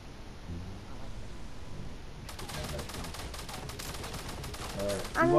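Rapid gunfire bursts in the video game Fortnite, a dense stream of crackling shots starting partway through and continuing steadily over a low noisy bed.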